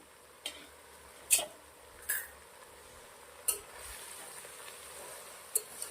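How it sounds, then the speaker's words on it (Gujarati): A spoon scrapes and clinks in a pan as chopped spinach is stirred into cooked tomatoes: a few sharp, scattered knocks over a faint, quiet background. "ટામેટા પાલક સરસ મજાનો મિક્સ કરી દીધો છે"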